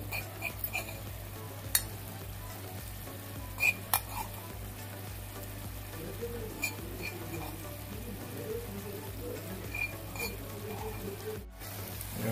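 Prawns frying in a pan over medium flame with dry spice masala, a steady soft sizzle under repeated scraping stirs and a few sharp clicks of the spoon, with brief background talk.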